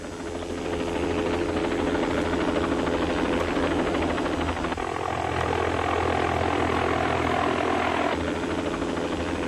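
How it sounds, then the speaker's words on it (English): An emergency rescue helicopter arriving at a scene, its rotor thuds and engine whine filling the air steadily and loudly, holding close and constant throughout. "Within 5 minutes, the helicopter was on the scene."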